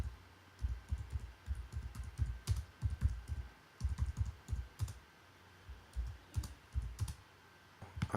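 Fingers type on a computer keyboard in quick, irregular clusters of soft clicks, close and fairly quiet, with brief pauses between bursts.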